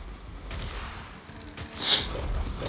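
Gunfire from toy army men soldiers battling a zombie horde in a video game, a steady crackle of shots with one louder burst midway, no talking.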